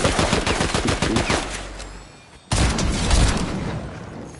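Automatic shotgun fire in the Fortnite video game: a rapid burst of sharp, loud shots for about two seconds, a brief lull, then another dense volley of booming blasts.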